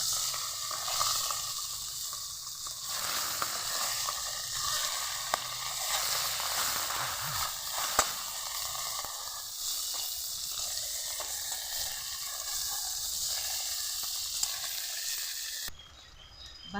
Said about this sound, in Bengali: বাকি মাছগুলোকেও ভেজে নিচ্ছি।